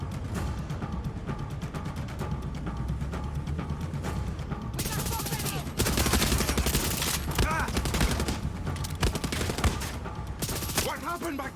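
Dense bursts of gunfire in the video game Far Cry 6 crackle continuously, growing louder and heavier halfway through, with rapid automatic shots layered over a busy, mechanical background.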